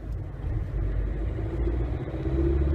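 A car pulling away during a driving test in Strasbourg: a steady low engine rumble from inside the cabin, building slightly as it moves off, with no talking.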